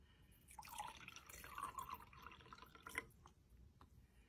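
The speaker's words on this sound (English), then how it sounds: "I do have some water here with me that I will pour" Water poured from a container, a soft trickling and dripping stream with small splashes, quiet and close, fading out after a few seconds.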